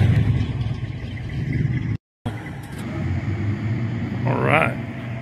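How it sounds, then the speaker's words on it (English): A Ford Falcon engine runs and revs under steady idle noise, with a brief dropout midway and a higher whining sweep near the end; a voice talks over it. "this car's hitting a pretty good lick"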